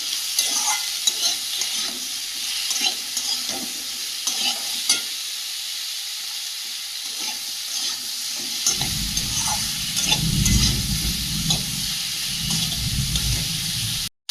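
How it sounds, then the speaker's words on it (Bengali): Field-caught fish being sautéed with turmeric and salt in a pan, a constant close sizzle with frequent spatula stirs, the frying turning louder and fuller in the second half. "পরিমাণ মতো হলুদ গুঁড়ো পরিমাণ মতো লবণ দিয়ে ভালো করে কষিয়ে নেব"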